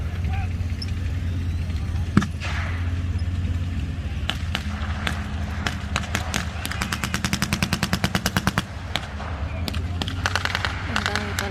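Rapid bursts of blank gunfire crackle through a World War 2 battle reenactment of 1940–41, sharp single shots giving way to a long machine-gun volley in the middle, loud and close over a low engine rumble, with a narrator speaking over parts of it.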